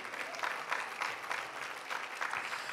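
A church congregation claps during a sermon, a steady, moderately faint patter of many hands from a crowd, unbroken for a few seconds with no voices standing out.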